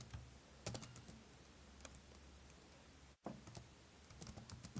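Quiet typing on a computer keyboard, scattered soft key clicks in uneven bursts with a brief gap partway through, faint and close, with no voices.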